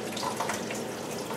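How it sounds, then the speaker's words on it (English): Water escapes from the drain plumbing under a kitchen sink into the cabinet, giving a steady, close trickling and splashing that runs throughout. "Water escapes out through there."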